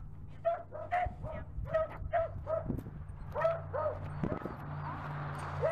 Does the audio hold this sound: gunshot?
no